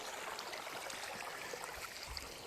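Water gushes out of two pipes and runs on into a river in the green Honde Valley of Zimbabwe, a steady close rushing flow with no voices.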